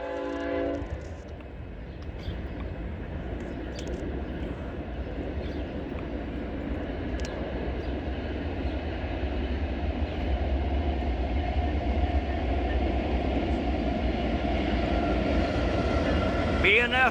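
A westbound Norfolk Southern freight train passes at Lorain, Ohio, near the Vermilion boat ramp and Colorado Avenue, giving a steady, loud rumble and rolling wheel noise that builds slightly and holds throughout, with no voices.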